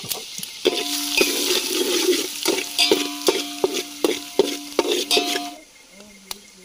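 Garlic and ginger fry over a high gas flame in a pan for chicken fried rice cooked outdoors, giving a steady close sizzle broken by repeated metal spatula scrapes and clinks that stop near the end.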